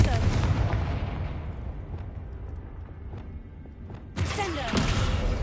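Confringo blasting spell explosion in a Hogwarts video game, a heavy booming blast with a long rumbling decay, followed by a second burst of crackling debris and impact noise near the end.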